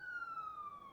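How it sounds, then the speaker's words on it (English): An ambulance siren wails from a distance, one long tone gliding slowly downward, clear and steady over a quiet outdoor background with no talking. "An ambulance."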